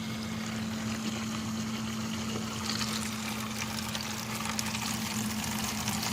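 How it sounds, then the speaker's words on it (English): A 300-gallon-per-hour water pump circulates water in a plastic tote, giving a steady low hum with a constant wash of churning water, moderately quiet and unbroken, with no voices. "So it's a 300 gallon per hour pump that I put in this thing, so it's rock and rolls pretty good"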